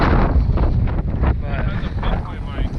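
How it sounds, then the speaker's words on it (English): Strong wind blows hard across an exposed hillside, producing a constant low rumbling roar and buffeting against the microphone. "It's really windy too"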